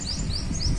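Birds chirping in repeated short rising tweets at a lakefront park, fairly close and clear over a low steady outdoor rumble.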